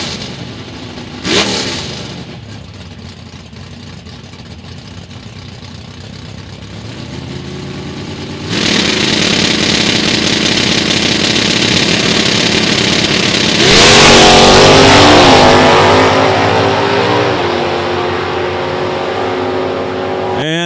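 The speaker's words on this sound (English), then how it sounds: "Got a pair of GTG automatics going at it." Two GM automatic drag cars, including a 1992 Oldsmobile, launch down the strip at an NHRA Division 3 race, engines idling quietly, then roaring loudly from about 8 seconds and surging louder mid-run before holding a steady far-off drone.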